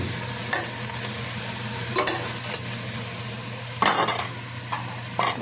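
Meat and onion fry in a pan with a steady close sizzle, interrupted by several scraping stirs of a utensil against the pan.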